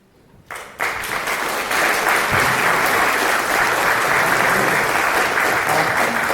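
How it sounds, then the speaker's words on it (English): Applause breaks out from the audience at a 2019 election climate action debate among all political candidates in Owen Sound, Canada, starting abruptly and holding dense and steady throughout. "I'm actually going to ask people to try and maybe curtail their applause"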